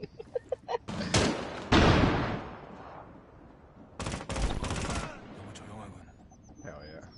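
Gunfire in a multiplayer shooter video game, sharp bursts of automatic fire in two main clusters with shorter pops between, loud against a quiet background with faint talk.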